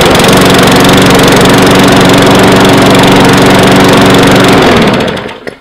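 Cobra RM46SPB petrol lawn mower engine pulled into life and running at a loud, steady drone with a rhythmic throb, close by, then cut off so the sound dies away in the last moment.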